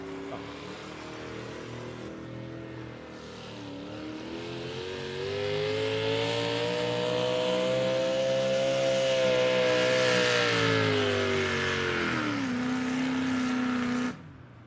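A pulling truck, the Twisted Sister from Rock Valley, roars at full throttle at an outlaw truck and tractor pull. The engine note climbs and drones loud and close, holding steady for many seconds, then drops sharply at the end.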